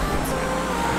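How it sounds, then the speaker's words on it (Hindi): A video game car engine hums at a steady, fairly loud level for about a second, with a broad continuous roar and no audible talk. "भाई क्या आवाज है इस गाड़ी की यार एपिक"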